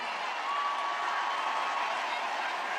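An audience applauding and cheering, a dense, steady wash of crowd noise at moderate distance that holds level for the whole stretch.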